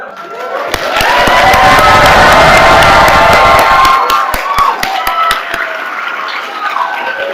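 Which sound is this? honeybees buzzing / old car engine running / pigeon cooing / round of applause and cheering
round of applause and cheering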